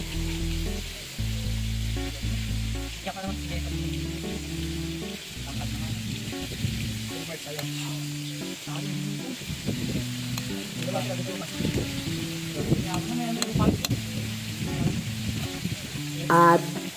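A honey and soy sauce glaze for spicy buffalo wings is stirred in a hot pan, a soft continuous sizzle with occasional utensil clinks, under steady background music.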